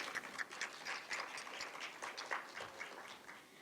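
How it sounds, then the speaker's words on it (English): An audience at a new members orientation claps for the new members, a soft, steady patter of many hands heard from a distance at low volume. "A big round of applause for our new members."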